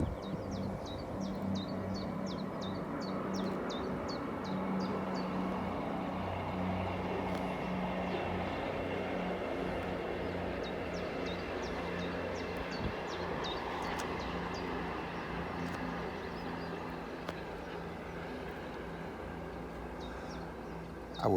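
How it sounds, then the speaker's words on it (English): A train rumbles past steadily and continuously, a broad low roar close by on a country lane, with bird chirps sounding faintly over the top. "I was just waiting for that train to go by"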